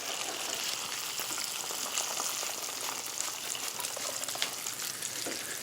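Steady, dense crackle and bubbling of freshwater shrimp deep-frying in hot oil, continuous and close throughout, with no talking.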